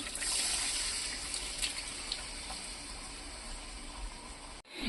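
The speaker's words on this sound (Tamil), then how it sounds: "புளி தண்ணியை இதில் ஆட் பண்ணிக்கலாம்" Continuous splashing gush of tamarind water being poured into a pot, steady for several seconds before cutting off abruptly near the end.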